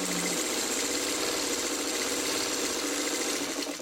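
A sewing machine stitches checkerboard quilt blocks with a continuous, even mechanical whir that runs loud and unbroken from start to finish.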